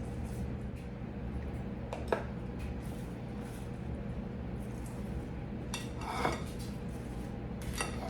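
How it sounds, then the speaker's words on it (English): A spoon scoops out an avocado, giving faint, soft scraping and a few light clinks against a quiet room-tone background, with no talking. "First, you want to scoop out your avocado."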